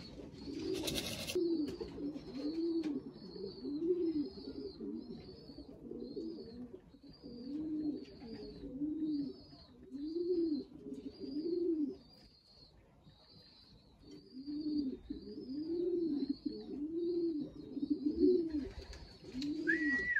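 Pigeons or doves cooing at close range, a repeated soft rhythmic cooing phrase looping steadily with brief pauses, accompanied by a faint higher whirring note, in a quiet setting.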